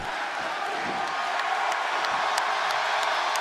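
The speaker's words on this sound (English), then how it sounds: "gets a crowd ovation" Wrestling crowd at ringside giving an ovation: a dense, steady roar of cheering and whoops from a large arena audience, continuous and loud throughout with no clear voice in front.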